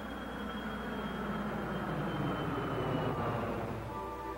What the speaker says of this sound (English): Now the acoustically treated plane.